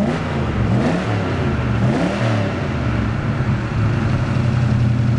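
A V8 car engine revs up and down twice, rising and falling in pitch, then settles into a loud, steady high idle nearby.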